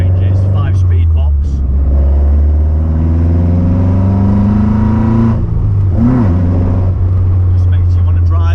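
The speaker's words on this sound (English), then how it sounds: "Just makes you want to drive and accelerate through the gears." A Caterham Super Seven 1600 with a five-speed gearbox pulls hard through the gears, its engine note loud and close, rising steadily, then dropping briefly at a shift before climbing again.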